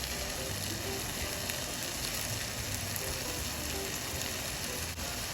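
Rice and sausage frying in a pan, a dense, even sizzle that stays steady and close throughout with no voices.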